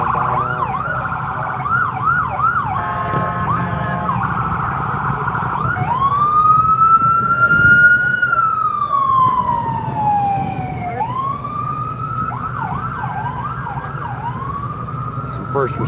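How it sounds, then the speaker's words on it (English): A fire engine siren passes by, loud and continuous, first rapid yelping then a long rising and falling wail before the yelp returns, over steady street rumble. "Fire engine coming by. Looks like we got another emergency response vehicle coming by now."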